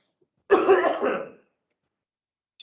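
A single close cough blends into rough throat clearing, lasting about a second, followed by silence and a brief trailing sound.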